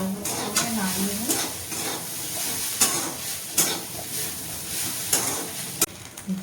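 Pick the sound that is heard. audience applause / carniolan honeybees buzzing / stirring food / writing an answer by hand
stirring food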